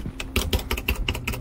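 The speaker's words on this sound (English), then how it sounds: "Why are you typing?" Rapid clattering keystrokes on a computer keyboard during a gaming session, close and fairly loud, with an uneven rhythm of bursts and no voices.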